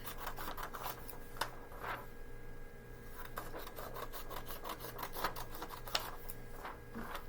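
Paper is trimmed from a gold notebook page, heard as close, quiet rhythmic scraping and snipping strokes repeating over a faint steady background hum.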